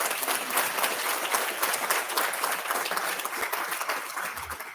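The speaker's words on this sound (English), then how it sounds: "Let's give her a round of applause." Audience at a commission meeting giving a round of applause, sustained dense clapping from a sizable group throughout, tapering slightly at the end.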